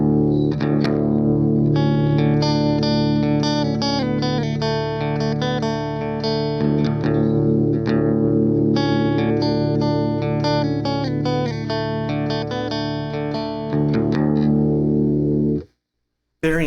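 Electric guitar through a Boss Blues Driver overdrive pedal with the tone knob fully up, bright crunchy overdriven notes and chords played in rhythmic phrases with a short pause midway, ending in abrupt silence.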